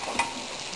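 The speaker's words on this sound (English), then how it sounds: "Scrunchions in the frying pan." Fish sizzling in a frying pan with scrunchions, a soft steady crackle of hot fat close by, with a brief stir or scrape near the start.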